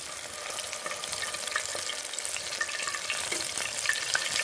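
Fish fry in a pan over an open campfire outdoors, giving a steady, close sizzle and crackle throughout with a few small pops, and no voices.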